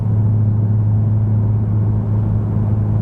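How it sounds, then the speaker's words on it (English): BMW E46 M3 with an upgraded exhaust cruising on the road, a constant low, booming drone with a steady rumble, loud and unchanging with no talk. "The original car drones anyway, okay?"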